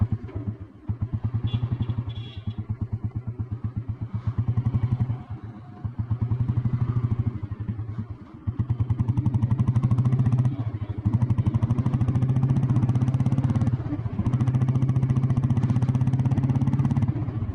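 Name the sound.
old Royal Enfield Bullet Blue Deluxe motorcycle running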